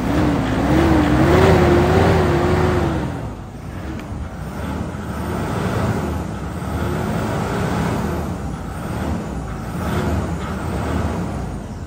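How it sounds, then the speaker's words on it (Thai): Engine of a 2007 Toyota Vigo 2.5 pickup revs loudly up close, a rising whine that climbs and falls, then settles into a steady rumbling idle with another gentle rev. "มาดูฟังเสียงอัตราการเร่งนะครับผมจะเร่งให้ลูกค้าได้ฟังกันนะครับ"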